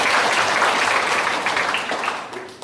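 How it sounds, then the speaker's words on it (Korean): An audience at a regional jobs panel forum in a chamber of commerce hall claps in a loud burst of applause that fades out toward the end. "큰 박수 다시 한번 부탁드립니다"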